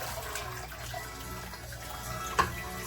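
A tap runs water steadily over organic produce being rinsed at a sink, a continuous splashing flow with a brief louder splash near the end; no talking.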